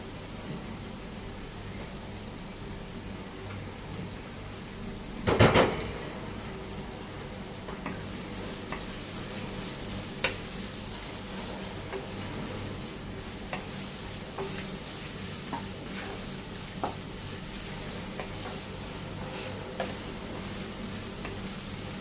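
Sliced onions sautéing with salt in a pan for a boiled-egg dish, a steady low sizzle throughout, with one sharp clatter near the start and a few light utensil taps later.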